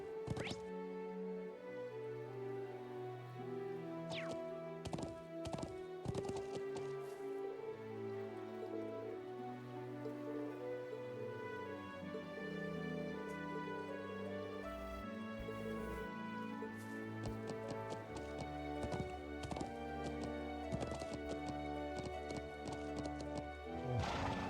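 Horses trot and whinny in the video game Trails of Cold Steel II, with steady clip-clop hoofbeats and occasional neighs over a background of game music.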